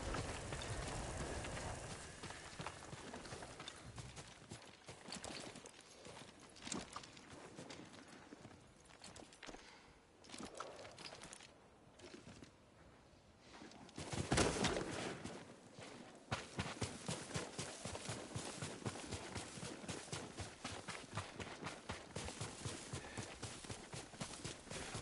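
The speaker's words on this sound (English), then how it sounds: "Yuriko's horse." In Ghost of Tsushima, a horse's hooves clip-clop steadily at close range over a soft hiss like rain, with a brief louder burst midway before the regular hoofbeats resume.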